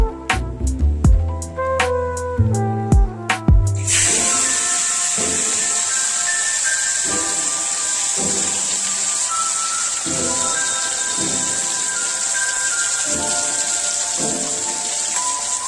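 Fish head frying in hot oil, a few bright clanks and taps at first, then a sudden loud hiss that settles into a steady, dense sizzle close by with occasional pops, no talking.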